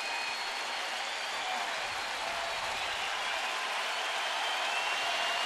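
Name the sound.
baseball crowd applauding, Indians fans on their feet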